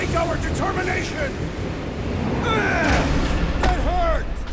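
Strong wind gusts roaring in Marvel's Guardians of the Galaxy video game, a constant loud rushing blow under voices of characters speaking.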